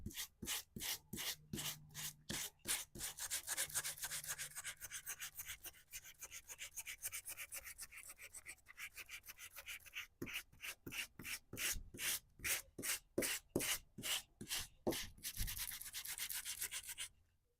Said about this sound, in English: So now I'm going to try sanding this